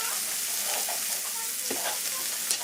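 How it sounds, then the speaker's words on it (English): Onions and celery seasoned with rosemary, salt and pepper sweat in a pan for a shepherd's pie, giving a steady soft sizzle with a few light stirring scrapes and no talk. "Getting everything nice and sweated. Sweat the onions, the celery."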